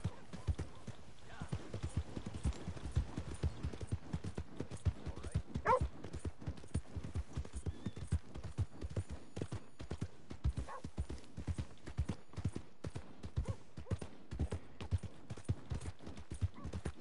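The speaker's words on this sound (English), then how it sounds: "Well, honestly, I really like this horse." Horse hooves clip-clop steadily in a continuous rhythm while riding in Red Dead Redemption 2, close and moderately loud, with an occasional whinny and faint talk beneath.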